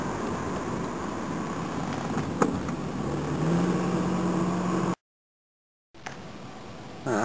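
A 1984 Toyota Cressida with worn front suspension drives along, giving a steady road and engine rumble with a rising tonal hum, then a sudden gap of silence before the driving noise returns.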